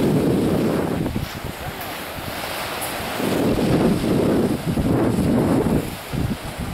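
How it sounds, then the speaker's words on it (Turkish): Sea wind gusting onshore at a rocky cove on the Çanakkale coast, a steady roar with louder surges and buffeting against the microphone, waves faintly beneath. "rüzgar karşıdan esiyor, denizden esiyor arkadaşlar"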